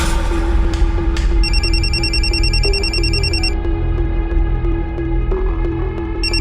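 A telephone rings in bursts of high electronic trilling over a steady low hum and background noise, loud and close, with no talking.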